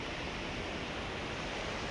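Steady broadband rush of a waterfall beside the Darma Valley road in Uttarakhand, running low on water, holding an even, continuous roar throughout with no voices.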